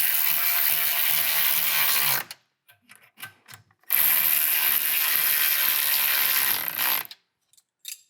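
A socket ratchet tightens sway bar bolts on an Audi A8, giving two long runs of rapid clicking separated by a break with a few scattered knocks, near and alone.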